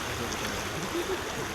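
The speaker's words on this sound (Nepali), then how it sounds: "कसरी तर्ने यो खोला अब" A river stream flows at a riverside crossing spot, giving a steady, full rushing wash of water that stays constant throughout without any clear voices.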